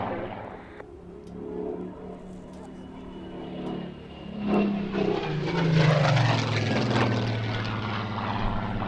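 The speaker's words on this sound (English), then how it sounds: "the more classic shapes of Spitfire and the Hurricane carried down to victory roll over the top" Propeller-driven Spitfire and Hurricane fighters with Merlin engines perform in a flying display, their engine drone rising and swelling loud overhead as they pass, with a voice commentating over the noise.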